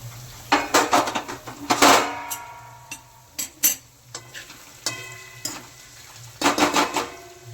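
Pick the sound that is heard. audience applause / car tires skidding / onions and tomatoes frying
onions and tomatoes frying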